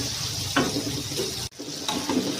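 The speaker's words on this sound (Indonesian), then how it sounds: "Ini kita goreng sampai kering, sampai matang." Tuna pieces fry in hot oil, giving a steady close sizzle with occasional stirring clinks and scrapes and a brief pause partway through.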